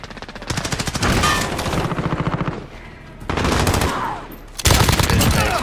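Rapid automatic gunfire from an Uzi in Modern Warfare team deathmatch gameplay, loud bursts of fast rattling shots in several stretches separated by short pauses.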